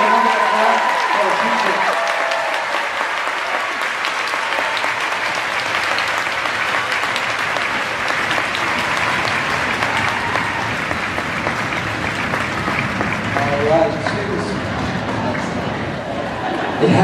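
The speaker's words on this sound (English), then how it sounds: "So let's give a round of applause." A large audience in a school gymnasium claps in a long, sustained round of applause with crowd chatter underneath, lasting more than fifteen seconds before thinning out at the end.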